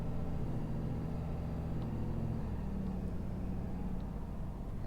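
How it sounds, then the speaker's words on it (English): Ford Powerstroke diesel pickup from a 2020 F350 and 2017 F550 work truck pair idling, a steady low rumble heard from inside the cab with no talking. "Just the idle sounds so much better."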